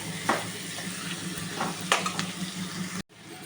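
Onions fry in a pan before chicken goes in, a steady low sizzle with a few scraping stirs, close and moderate in level, cut off briefly near the end.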